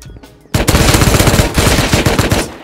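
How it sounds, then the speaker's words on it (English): Rapid automatic gunfire in the game Rust bursts in abruptly after a quiet moment, a loud, dense string of shots that continues for about two seconds. "AJ shot me in the back of the head"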